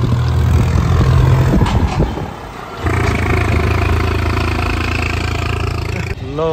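Tractor engine hauling a loaded trolley in a sugarcane field: a loud, steady low chugging drone that dips briefly, then resumes with a strong harmonic rumble and a short rising whine near the end.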